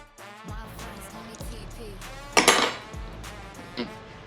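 Shrimp boil potato salad being mixed in a bowl, with a few soft scrapes and one louder clatter of a utensil against the dish, close and alone.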